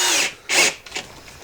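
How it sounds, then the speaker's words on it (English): A power drill whirs in short bursts during basement drywall and framing work, two strong close runs followed by a fainter brief one, with no speech. "And she's got a drill in her hand."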